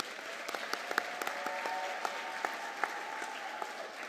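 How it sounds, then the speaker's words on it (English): Audience applause at a high school graduation commencement ceremony, a sustained, even patter of many hands clapping with sharper individual claps standing out, moderately loud and unaccompanied by speech. "Let's give our graduates a hand and applaud yourselves."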